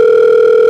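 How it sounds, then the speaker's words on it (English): A steady telephone dial tone, loud and unbroken, from a phone left off the hook in a prank call setting, heard alone with no voices. "pick up that phone, man."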